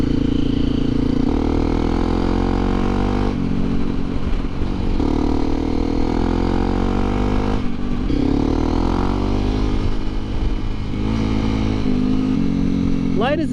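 A Honda CRF250L Rally dual-sport motorcycle ridden on gravel, its engine droning loud and close with repeated throttle changes and shifts, rising and falling revs, wind rush and crunching clatter from the surface throughout.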